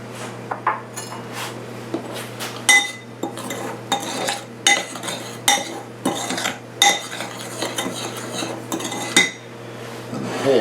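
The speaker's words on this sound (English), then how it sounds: "And the pears get mixed with that." Sliced Asian pears being tossed with flour, sugar and cinnamon in a bowl: repeated clinks and scrapes of a utensil against the dish in irregular bursts, close and clear with a faint steady hum beneath.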